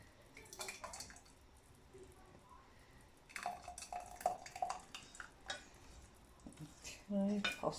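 Blackcurrant jam is scraped out of a cooking pot with a utensil: quiet, intermittent scrapes, clinks and wet smears, sparse at first and then more frequent and louder toward the end.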